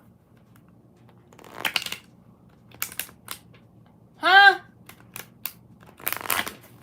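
Tarot cards are shuffled in several short separate bursts of crisp riffling, close and moderately loud, with a brief voiced interjection in the middle.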